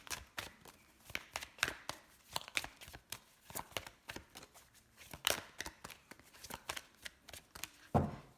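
Oracle des ombres divination cards are shuffled by hand in quick, papery riffles and soft slaps, coming in irregular clusters of close, fairly quiet bursts with no talking.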